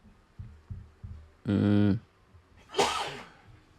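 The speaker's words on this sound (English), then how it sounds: "I got to sneeze, though." A short loud electronic hum gives way to a single sharp, breathy sneeze, with soft thumps in the background.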